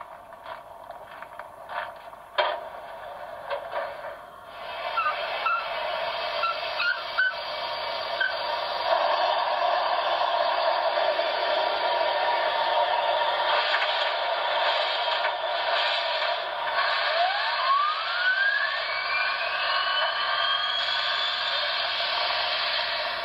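A BLI HO BrassHybrid ATSF 4-6-4 Blue Goose model locomotive runs along the track, a steady mechanical hum and whir that settles into a continuous drone, with a rising whistle-like tone near the end and no talking.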